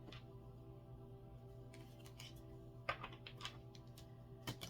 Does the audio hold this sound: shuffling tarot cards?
yes